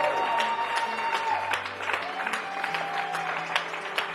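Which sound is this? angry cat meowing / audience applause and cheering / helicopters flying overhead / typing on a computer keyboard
audience applause and cheering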